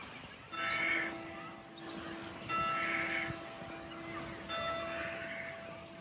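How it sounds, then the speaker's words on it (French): A bell rings three times at steady intervals during an outdoor morning yoga session in nature, each strike clear and lingering, with bird chirps in the background. "Écoute le son de la cloche au passage."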